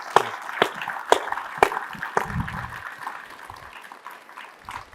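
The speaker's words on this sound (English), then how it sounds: "and please give us a round of applause." Applause breaks out after the signing of the INDUS-X MOU at a defense summit: a few sharp, loud claps stand out at first, then thinner scattered clapping fades, with brief voices mixed in.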